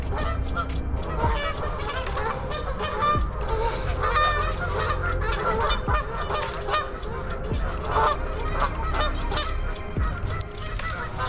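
A flock of geese honks repeatedly and loudly, overlapping calls at an irregular rhythm over a low rumbling background.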